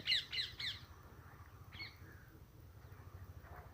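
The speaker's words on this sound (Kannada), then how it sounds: "ಪಕ್ಷಿಗಳ ಕಲರವ ಪಕ್ಷಿಗಳ ಕೂಗಾಟ" A few sharp bird squawks ring out at the start, followed by a fainter call, over a low rumbling background.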